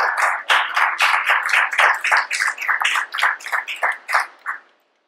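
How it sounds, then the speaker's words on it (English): Congregation clapping at a Wednesday evening church service, a brisk run of distinct hand claps, fairly close and bright, thinning out before stopping abruptly near the end. "Let's give him a clap offering tonight"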